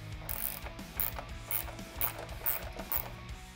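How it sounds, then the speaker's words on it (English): A socket wrench ratchets a lock nut tight on a Harley Touring lower vented fairing, giving about seven close, crisp clicking bursts in steady rhythm with no talk. "You just want to tighten it down just enough to where you hear those audible clicks and it stays in place."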